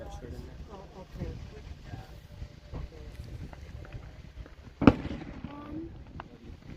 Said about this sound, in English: Mom and Dad are doing fireworks without us.